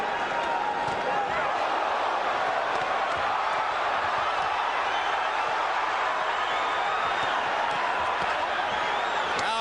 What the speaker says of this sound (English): Crowd is excited to see Barrera take so many punches from Junior Jones